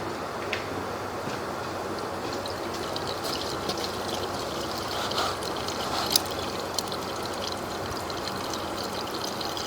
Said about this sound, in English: So the water is coming in after that.